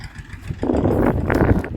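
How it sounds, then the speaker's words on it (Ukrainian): A Chinese tractor engine runs with a steady, rough mid-range drone that grows louder partway through, close by, with no talking over it. "Якщо так дивитися об'єктивно, то двигун суперовий."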